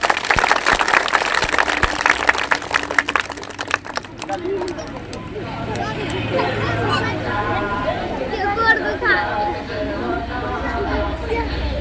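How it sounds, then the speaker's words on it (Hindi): Children clapping hard at a magic show, a loud burst of dense applause for the first few seconds that gives way to excited chatter and crowd babble. "जोर ताली मारिए बच्चा लोग"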